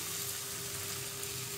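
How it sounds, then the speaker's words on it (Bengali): Spices and a mutton head fry in hot oil for a village-style dish, giving a steady, dense sizzling hiss that holds at an even level throughout with no talking. "দেখো খুব সুন্দর করে ভাজা ভাজা হয়ে গেছে মশলাটা, দেখতেই পাচ্ছ তেল মেল সব ছাড়িয়ে দিয়েছে"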